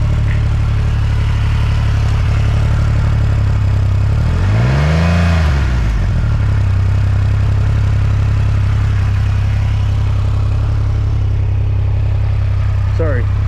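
Triumph Rocket 3R motorcycle engine idling with a deep, loud rumble, then revved once in a single rising and falling swell before settling back to idle, close by.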